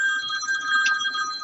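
A telephone rings with a steady electronic tone that holds for the whole moment, fairly loud and alone with no voices.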